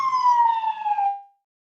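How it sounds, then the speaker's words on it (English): Fire truck siren passing by, a single loud steady wail that holds and then slides down before cutting off. "There's some fire trucks coming through. I'm not joking. Let y'all hear this shit. Hear the horn, hear the sirens."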